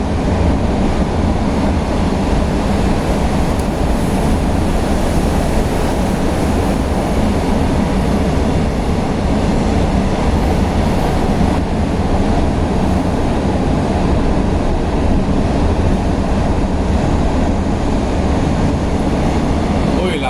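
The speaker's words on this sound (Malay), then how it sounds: "bunyi bising sebab pejabat aku dekat dengan track kereta api." A loud, continuous rumble of a train rolling along nearby tracks, a steady heavy roar that holds for the whole stretch without a break.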